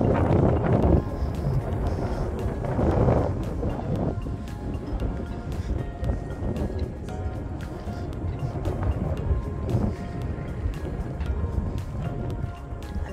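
Boat fittings clink and tap irregularly in the wind aboard the Holland America Zuiderdam cruise ship at Charlottetown, Prince Edward Island, with gusty wind buffeting the microphone and a low rumble of water beneath.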